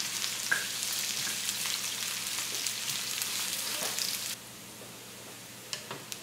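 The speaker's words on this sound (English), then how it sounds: "I'm going to add my sliced onions. And let those cook down for a minute." Sliced onions frying in a pan for Sri Lankan lentil parippu, a dense close hiss with occasional pops and stirring taps, the sizzle dropping abruptly to a quieter level partway through.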